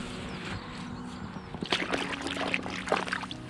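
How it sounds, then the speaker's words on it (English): Neoprene wetsuit gloves are plunged into water, giving soft sloshing and splashing that grows busier after a quiet start, close by and fairly faint. "Let's give them a dunk test, eh, and see if they let any water in"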